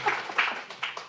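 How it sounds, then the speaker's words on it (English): A small audience applauds after a talk on Global Game Jam, a brief scattering of claps in several quick bursts, moderately close and fairly faint, with no speech over them. "Now is the applause part of the interview"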